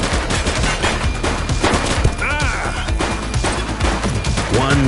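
A shooter opens fire in the video game The Precinct: rapid, loud bursts of gunshots crack repeatedly across several seconds, mixed with other in-game sounds and brief shouting voices.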